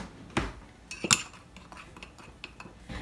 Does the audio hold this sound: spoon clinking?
yes